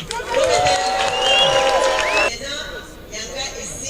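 A crowd at an official ceremony applauds and cheers for Maman Mineta Nabiso, with loud whoops and shouts over clapping that drops to a quieter murmur partway through.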